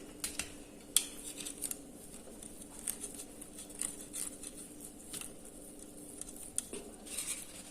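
Paneer rubbed against a metal hand grater in a kitchen, a steady run of light, close scratchy rasps with small metallic clicks and taps scattered throughout, no talking.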